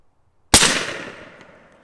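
A single loud report from an Umarex Hammer .50 caliber air rifle: a sharp crack after half a second of silence, trailing off in a decaying echo that lasts over a second.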